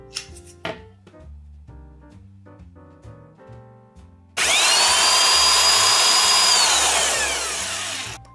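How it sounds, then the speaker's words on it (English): A power drill used as a starter spins a 3D-printed gas engine, whirring loudly and steadily for several seconds, high-pitched and close, after a stretch of quieter background sounds. "The drill starter will not only make it spin faster"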